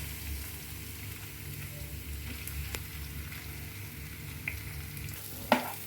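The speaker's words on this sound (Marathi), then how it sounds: "गॅस थोडा बारीक करूया आणि त्याच्यामध्ये हा बटाटा घालून घेऊया." Potato pieces frying in a turmeric tempering in a pan over lowered heat, giving a soft, steady sizzle with a few light clinks of a spoon against the pan near the end.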